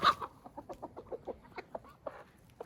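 Chickens clucking in a rural village yard alongside ducks, a run of short repeated clucks in quick succession, moderately close and fairly quiet, with a few louder calls near the end.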